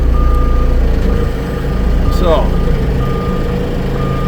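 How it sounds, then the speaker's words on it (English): A vehicle's reversing alarm beeps at a steady, evenly spaced pace on a rural work site with logs waiting for a sawmill, sounding over a constant low engine rumble, with a brief spoken word. "Get rid of that darn beep"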